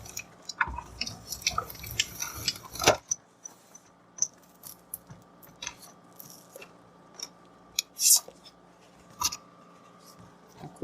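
Stencil and metallic paper layered with rubber and a cutting mat are rolled through an Accucut embossing machine, giving soft crunchy rolling and clicking with a dense burst early on, then scattered light ticks and rustles.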